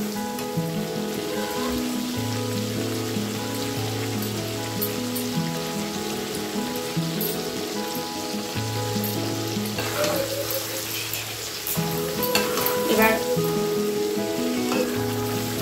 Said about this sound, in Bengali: এবার ভালো করে জলপাইয়ের সঙ্গে হলুদ আর লবণটা ভালো করে মিশিয়ে নিচ্ছি।